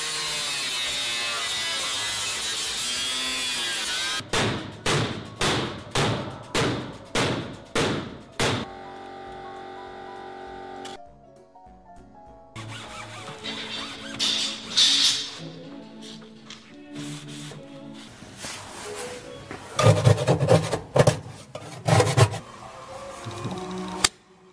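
An oven is stripped down with a run of sharp, evenly spaced ratcheting clicks and tool strikes. Quieter metallic handling and scraping follow, with bursts of clatter.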